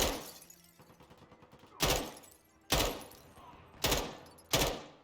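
Video game gunfire shoots up objects and wine bottles, with four loud, sharp shots at steady intervals over a low background of game noise and clatter.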